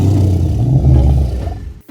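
A Jurassic World Triceratops skin in the Dinosaur Simulator video game gives a loud, drawn-out low call, rumbling and heavy, that tapers off and cuts out near the end.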